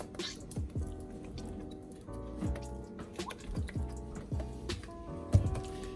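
Seasoning sauce is squeezed from a bottle onto raw turkey wings, giving wet squelching spurts and drips in an irregular series, close and soft, over a faint background hum.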